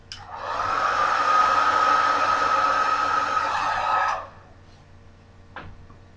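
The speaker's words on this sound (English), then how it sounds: "I know I haven't used the blow dryer" A hair dryer whirs loudly up close for about four seconds, then cuts off, leaving a quiet room with a brief click afterward.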